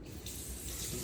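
Tap water runs steadily into a sink to rinse something off while goats are being cared for, a close, continuous splashing hiss that fills the whole second with no voices over it.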